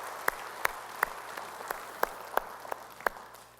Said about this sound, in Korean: 우리 찬양하신 주님께 영광의 박수 올리겠습니다